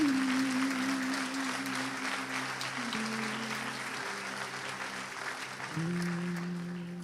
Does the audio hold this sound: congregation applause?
yes